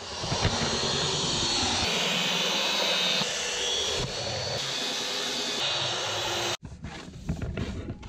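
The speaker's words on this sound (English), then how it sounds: "So we just belt sanded that now." A belt sander runs across teak locker lids during boat repairs, a loud, continuous whirring grind that holds steady for several seconds before cutting off abruptly, leaving quieter rattling handling noise.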